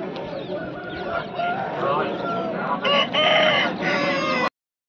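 A Kakidega rooster crows loudly and close by at a busy poultry market, with clucking fowl and a murmur of people talking in the background. The sound cuts off abruptly near the end.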